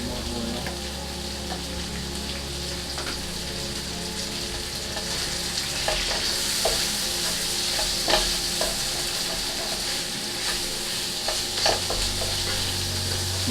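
Spicy pineapple fried rice frying in hot oil in a pan, a steady loud sizzle with scattered stirring scrapes and crackles running throughout, close and without talk.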